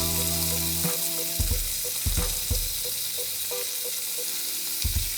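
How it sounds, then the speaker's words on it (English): Chicken thighs and wings searing in ripping hot oil, a steady bright sizzle with a few sharp pops and clatters of pieces being laid into the pan, close and fairly loud. "Now that our oil is ripping hot, we're going to go ahead and sear our chicken pieces, starting out with the thighs and wings"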